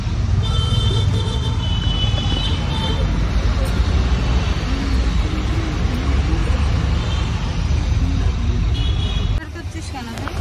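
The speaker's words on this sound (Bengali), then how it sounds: "অটো করে এখান থেকে চলে যাচ্ছি ব্যারাকপুর।" Steady road traffic rumble while riding in an auto rickshaw heading to Barrackpore in the morning, with engines and passing vehicles close and loud throughout and a brief shift in tone near the end.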